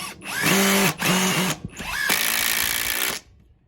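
A Ryobi impact driver sinks a badly worn screw in repeated loud bursts of whirring and rapid hammering, two short runs followed by a longer sustained drive, close up with no talking.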